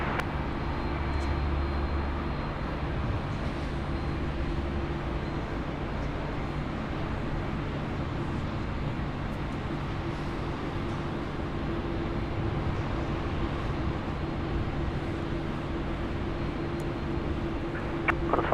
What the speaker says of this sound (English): Fiji Airways now rolling 3-4 left.